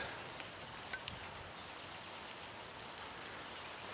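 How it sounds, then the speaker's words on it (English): Steady rain hisses evenly throughout, a dense broadband wash with no pauses, and a couple of brief faint clicks near the start. "Boy, oh boy, what a rain."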